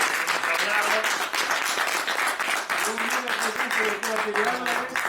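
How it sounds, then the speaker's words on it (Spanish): Audience applause for doctors and graduates at a talk event, steady clapping that fills the clip at moderate loudness, with a voice speaking over it. "Les pido un aplauso para los doctores y licenciados que hemos hablado."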